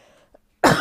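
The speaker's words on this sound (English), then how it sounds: "I'm not fucking editing out these goddamn coughs" A sick man gives one loud, close cough that bursts out after near silence and a faint throat sound, still ringing at the end.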